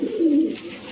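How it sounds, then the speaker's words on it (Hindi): Punjabi chhatri pigeon cooing, a single short, soft, low throaty coo heard up close in one brief burst. "बहुत ही टॉप क्वालिटी कबूतर आया दोस्तों"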